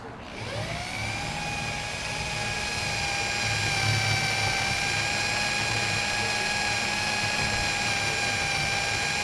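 Power drill boring a pilot hole through an enclosed work trailer roof, a sustained high-pitched whine that spins up at the start and holds steady and fairly close for several seconds.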